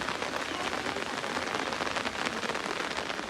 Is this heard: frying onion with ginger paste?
no